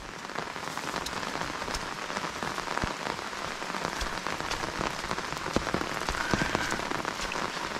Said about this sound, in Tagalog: Umuulan man bumagyo.